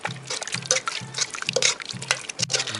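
Pork blood stew (dinuguan) being stirred in a pot, giving repeated wet, sloshing liquid sounds in an even rhythm, about one stroke every half second, close and fairly clear.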